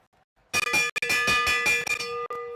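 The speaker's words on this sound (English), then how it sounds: "Here comes the bell." A bell rings repeatedly at a cycling track during a national championship elimination race, marking the final lap. The clangs come loud and close in a steady rapid series, alone after a quiet start.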